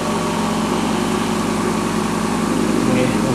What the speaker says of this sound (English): The fresh air is kind of noisy because I need to put one of those spacers in the motor. So that makes a lot of noise.